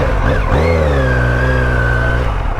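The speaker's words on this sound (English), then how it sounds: "I'm sure with the full system exhaust on here, the motor is nice and open and it feels good. But it's got some sound." A Kawasaki Z900 motorcycle with a full system exhaust revs up loudly and close, its engine note climbing sharply and then holding a strong steady pitch before easing off.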